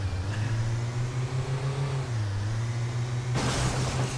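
A car engine in the Autobahn Police Simulator video game drones steadily at a mid pitch, dipping slightly in revs partway through before a burst of hissing noise joins in near the end.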